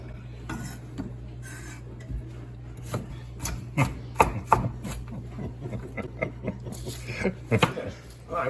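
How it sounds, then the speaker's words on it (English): Onions, celery and fresh garlic are chopped on a board, the knife tapping in uneven bursts of sharp strikes against a low steady hum, with a voice talking faintly in between. "we're going to cut up our onions and celery and chop some fresh garlic here"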